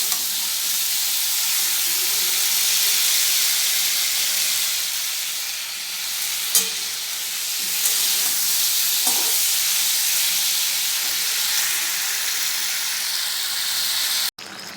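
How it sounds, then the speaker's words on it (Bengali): Prawns with spices stir-fried in a pan, a steady broad sizzle and hiss running throughout with occasional faint scrapes, ending in an abrupt click. "এর মধ্যে সব মশলা দিয়ে দিয়েছি, চিংড়ি মাছগুলো ছেড়ে দিয়েছি, দিয়ে একবারে কষাবো"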